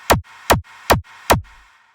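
Four punchy layered hardstyle kick hits land in a steady, evenly spaced rhythm, each a sharp thump with a short bright attack, then silence.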